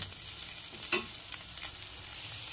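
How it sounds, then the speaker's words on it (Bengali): Oil sizzles steadily as small fish fry, with a few sharp pops and crackles, one louder burst near the start, no voices. "যখন দেখবে পটপট করে আওয়াজ হচ্ছে তখন বুঝবে এক পাশ ভাজা হয়ে গেছে"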